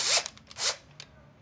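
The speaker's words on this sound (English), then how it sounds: "I'm just gonna loosen up the stainless clamp on the membrane housing" A stainless steel clamp on a water filter membrane housing is loosened up close, giving two short scraping rasps followed by a faint click.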